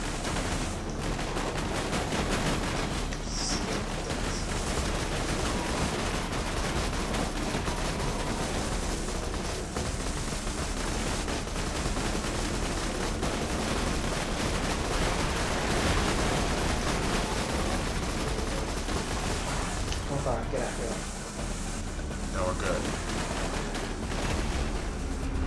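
Bandits firing guns in Borderlands 2, a dense, continuous barrage of gunfire and rapid automatic bursts that stays loud and unbroken throughout.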